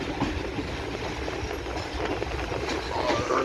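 Pakistan Railways Khyber Mail express train arriving at Shujabad station near Multan, a loud, continuous rumble of rolling wagons with clattering wheels and rail noise, close by and without talk.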